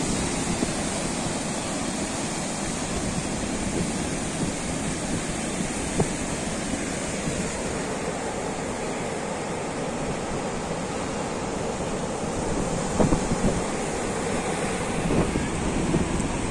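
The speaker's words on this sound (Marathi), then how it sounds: "मला लाटांचा आवाज ऐकायला येत असेल" Sea waves break on a village beach in a continuous broad roar of surf mixed with wind buffeting the microphone, steady and loud throughout with no speech.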